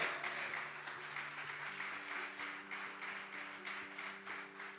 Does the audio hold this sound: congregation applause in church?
yes